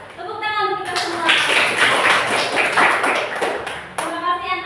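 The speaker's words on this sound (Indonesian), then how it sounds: "Tepuk tangan untuk kita semua." Round of hand clapping closing a school lesson, a dense burst of many hands clapping for about three seconds, loud and close, bracketed by a voice speaking before and after.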